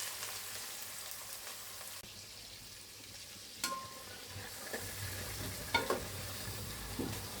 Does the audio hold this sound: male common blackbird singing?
no